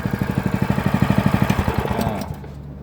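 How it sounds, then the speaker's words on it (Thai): A 4-stroke gasoline engine on a 2- to 3-inch water pump chugs close by with a fast, even putter, then sputters and cuts out, leaving a faint hiss. "อันนี้ก็คือเครื่องจะติดแล้วนะครับ"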